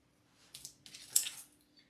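A few quick, close scissor snips cutting ribbon tails on a Halloween wreath, soft and brief over a faint background hum.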